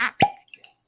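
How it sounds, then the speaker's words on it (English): A cork pops out of a whisky bottle being opened: one sharp, close pop followed by two faint small clicks, with a short breathy sound just before it and quiet afterwards. "Now opening the bottle."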